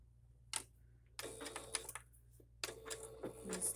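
A sewing machine stitches zigzag through fabric in three short bursts of quiet, rapid mechanical ticking, separated by brief pauses.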